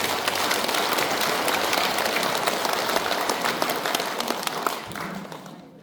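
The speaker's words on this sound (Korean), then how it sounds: "찬탄의 박수 한번 부탁드립니다" A congregation at a Buddhist dharma service applauding, a dense, even wash of many hands clapping together that carries on steadily and then fades out toward the end.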